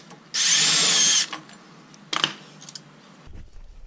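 A power tool whirs briefly while removing an axle flange bolt during a locking differential install, a close, loud burst of about one second followed by faint metallic clinks and clatter.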